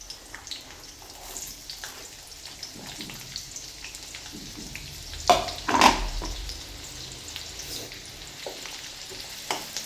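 Chopped onion hits hot oil already seasoned with cumin seeds, giving a steady close sizzle with a couple of louder spattering bursts midway.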